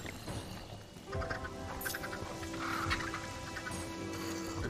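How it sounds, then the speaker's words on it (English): Ducks quacking in the video game Minecraft Dungeons during co-op play, a busy stretch of fowl-like calls repeating over steady game noise and music, fairly close and continuous with no voices. "So much ducks up there."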